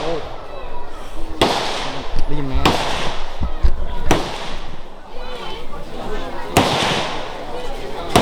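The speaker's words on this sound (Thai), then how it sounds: "ใครที่สนใจอยากจะลองยิงปืนนะครับสงครามแบบที่เขายิงกันเนี่ยก็ มันก็สามารถ ยิงได้นะครับ" Gunfire at the Cu Chi tunnels shooting range in Ho Chi Minh City: a few sharp, booming reports spaced a second or two apart, heard from a short distance over a steady crowd murmur and nearby talk.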